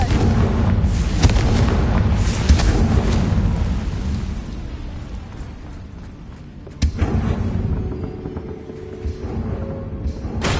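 Explosions from the Confringo blasting spell in a Harry Potter video game, deep rumbling blasts that roll and fade, with a sharp crack about two-thirds of the way through and no talk.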